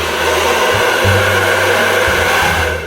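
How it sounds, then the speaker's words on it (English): A hair dryer on its low setting blows steadily with a constant loud whooshing hum, its motor tone shifting slightly partway through, with no voices. "here is where your hair dryer comes in, so I'm gonna just go ahead and try to start it on low."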